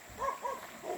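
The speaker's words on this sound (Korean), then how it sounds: "강아지들이 멍멍 짖는 게" Dogs bark along a countryside lane at dusk, a few short, fairly mild barks spaced about a third of a second apart at middle distance, with no one talking.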